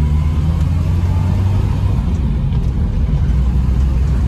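A Bedford HA van drives through small villages on a test drive, its engine giving a steady close rumble with road noise and light revving, no talk over it.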